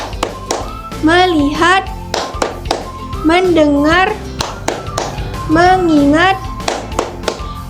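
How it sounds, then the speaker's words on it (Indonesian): Classroom of children doing a rhythmic focus clapping routine, crisp claps in patterned bursts alternating with the group chanting words in unison, close and loud. "kita tepuk fokus terlebih dahulu ya"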